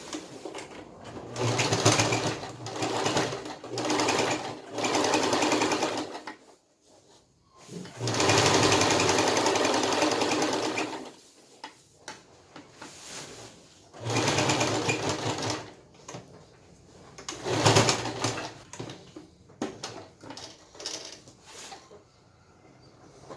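A sewing machine stitches through thick layered fabric in several loud, rapid mechanical bursts of needle clatter, separated by short pauses and quieter handling noises.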